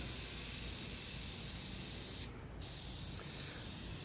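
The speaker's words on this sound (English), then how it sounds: "I'm just spraying this whole thing until this is the aerosol's empty." A steady aerosol can sprays continuously with a broad hiss, pausing briefly for a moment before resuming the same strong spray.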